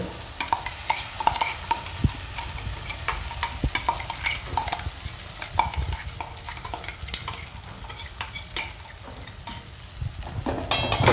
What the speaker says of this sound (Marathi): मसाला चांगल्या प्रकारे त्यात परतून घ्यायचा